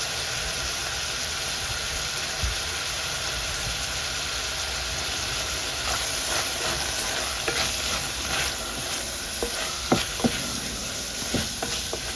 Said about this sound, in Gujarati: બધી એવી રીતે મૂકીને હલાવી લેવાનું.